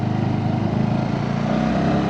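Motorcycle engine drones steadily while the bike climbs a steep gravel mountain road on the ride from Gangtok to Lachung, a close, continuous low rumble with no talk.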